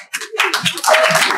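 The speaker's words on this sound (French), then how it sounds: "On peut applaudir." Audience applause at an evening campaign launch event, a burst of clapping that swells after a brief pause and holds steady and fairly loud, with some voices mixed in.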